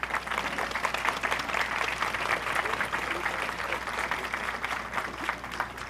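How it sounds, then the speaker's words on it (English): A ceremony crowd at a Marine museum groundbreaking applauds the 2nd Marine Aircraft Wing Band quintet, with a sustained, fairly distant patter of many hands clapping evenly throughout and a faint low hum underneath. "let's have an enthusiastic round of applause for the quintet provided by the 2nd Marine"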